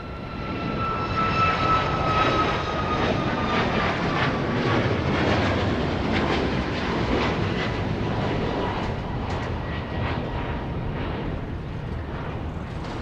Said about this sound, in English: It's a MAX 8 aircraft on Runway DFW live at Dallas Love Field.